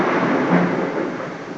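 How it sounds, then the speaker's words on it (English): Thunder from a storm outside rumbles as a broad, loud, continuous roar that swells slightly and then eases a little, with no voices present. "this scary thunderstorm outside"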